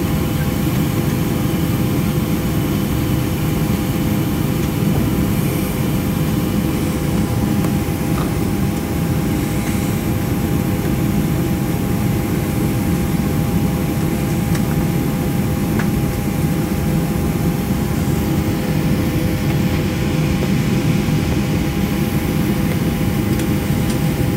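A Southwest Airlines Boeing 737-500 starts its engines during pushback from Gate 14 at Dallas Love Field, heard as a steady, loud low roar and hum that holds throughout without voices.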